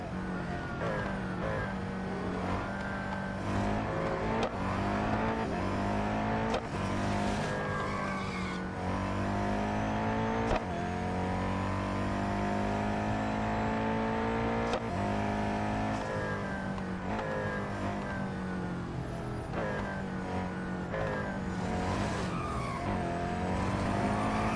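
Race car engine in the Real Racing 3 video game, a steady high whine rising and falling through gear changes across a lap, with occasional tire squeal and skidding, played alone at moderate level.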